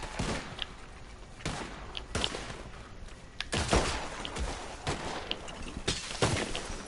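Pistol gunfire in the Western video game Red Dead, with about eight sharp shots fired at irregular intervals over a low ambient hum.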